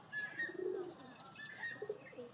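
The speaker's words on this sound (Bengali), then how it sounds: "এটা বিদেশি পায়রা এটা।" A foreign-breed pigeon coos softly on a rooftop, a few low throaty calls close by, with faint chirps and no talk.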